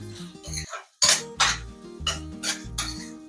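A spoon stirs an egg and drumstick curry in a metal pot, scraping and clinking close up. Several uneven strokes follow one another, over a faint background tone.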